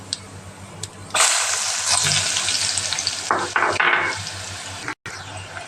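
Onions dropped into hot oil already tempered with asafoetida and cumin, a sudden loud sizzle that swells then settles, with stirring scrapes and a brief gap near the end.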